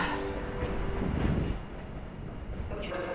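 Polregio regional train passing at Wrocław Główny station, a steady broad rumble and roar of rolling stock throughout, close and continuous.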